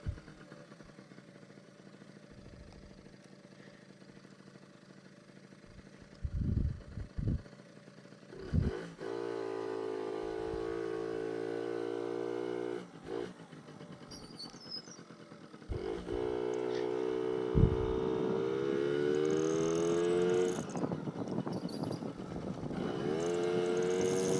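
A Yamaha Towny MJ50 two-speed moped engine idles and then revs up, climbing in pitch and dropping back as it shifts gears, a steady close buzzing with brief clunks early on.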